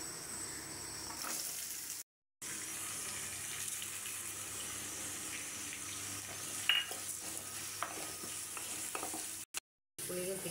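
Onion, garlic, tomato, coconut, dried red chilli and okra sizzle steadily in a pan while being tempered, with a continuous soft frying hiss and a faint clink of stirring.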